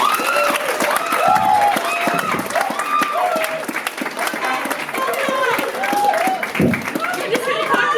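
A comedy club audience claps and cheers to welcome comedian MJ Hughes, a dense wash of applause close by, with voices and laughter mixed in.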